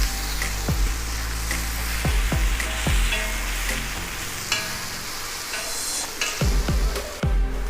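Kudampuli stirred into masala frying in a pan, a continuous sizzle broken by repeated sharp clanks of a spoon against the pan at an uneven rhythm, close by with no voices.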